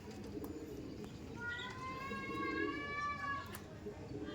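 Panjabi pigeons cooing in a loft at Howrah, a drawn-out warbling coo rising over a dense crowd of other birds, with people talking nearby.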